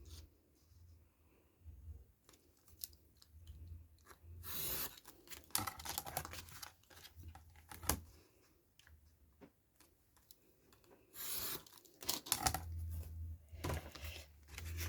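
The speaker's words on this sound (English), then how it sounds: "I'll just trim that one down a little bit." Printed image trimmed for a winter journal, heard as quiet close clicks and snips with bursts of paper rustling and handling noise, irregular and soft with pauses between.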